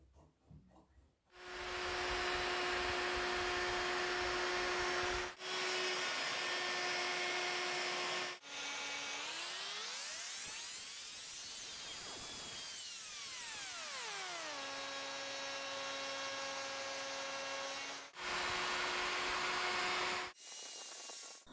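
A router fitted with a straight bit trims the edges of a wooden cutting board, a loud steady high-pitched whine in several long bursts, with pitch dipping and rising mid-cut as the bit loads in the wood, and short pauses between passes.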